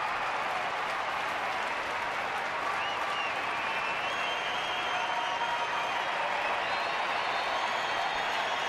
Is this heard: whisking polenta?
no